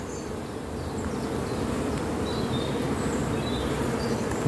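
Dense, steady droning hum of honey bees swarming around an open, crowded beehive during a hive inspection, a continuous close buzz with occasional individual bees flying past.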